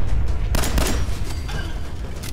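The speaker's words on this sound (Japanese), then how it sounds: "爆発する。" An explosion in the video game Fallout 4 hits loud and close, a sharp broadband burst followed by crackling debris and gunfire-like bangs over a low rumble.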